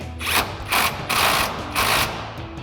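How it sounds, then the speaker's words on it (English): A ratchet with a 21mm socket tightens ball joint nuts on a RAM 2500 steering linkage, giving four quick bursts of clicking pawl strokes, close and clear with short pauses between. "So we're going to tighten down our ball joint nuts first."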